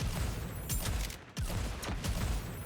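Video game gunfire, heavy repeated bursts of shots filling the scene at close range under dense action noise, with a brief drop-out in the middle.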